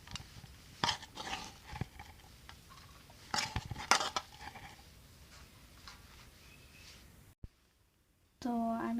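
Grated betel nut is tipped into a metal plate, giving scattered clinks and scraping knocks in short bursts, then a pause and a brief voice.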